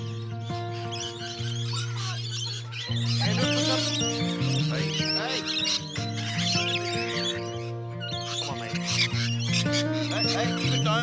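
Birds at a free bird feeding park squawk and chirp continuously over a droning tonal background, the calls busy and layered throughout.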